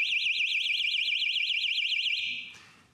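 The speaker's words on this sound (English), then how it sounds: "So I got to set the alarm off." A loud 105-decibel home security alarm siren wails in a fast, warbling up-and-down pattern, steady and piercing, then cuts off abruptly near the end.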